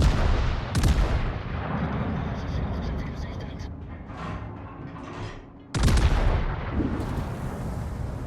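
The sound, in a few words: battleship firing AP shells in World of Warships (video game)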